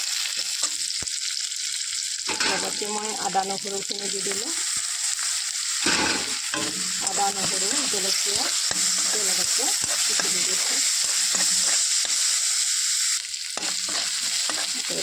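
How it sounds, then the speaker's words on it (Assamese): Onions and bay leaves frying in a pan, a constant bright sizzle that runs throughout while someone talks over it. "এইখিনি পিঁয়াজখিনি কিছু সময় ভাজি থকাৰ পিছত মই তেজপাতকেইটা দি দিলোঁ আৰু মই ভাজি থাকোঁ।"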